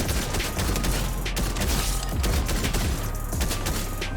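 Rapid AK rifle fire in a Fortnite Chapter 3 battle, loud and continuous, with dense overlapping bursts of shots and mechanical clatter running the whole time, with no voices.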